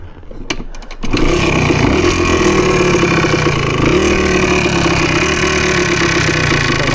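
A Husqvarna PE250 dirt bike engine idling close by, a steady buzzing putter after a few clicks at the start, with a slight rise in revs partway through.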